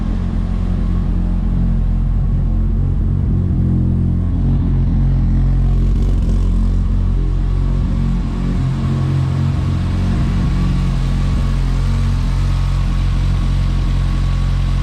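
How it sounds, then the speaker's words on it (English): Tuned Mitsubishi Evo with a stock 6466 block, its engine running with a steady low rumble and some variation in load, loud and close throughout with no talking. "So let's start her up and let's drive it."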